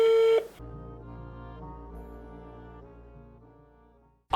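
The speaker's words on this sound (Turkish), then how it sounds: "Telefonu şöyle göstereyim. Bakın çalıyor çalıyor." A steady electronic tone, then a sustained ringing phone tone that slowly fades before a sharp burst at the end.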